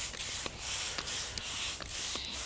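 Liquid foliar fertilizer is sprayed onto a citrus tree in short repeated hissing bursts about half a second apart, close and fairly loud, with no talk.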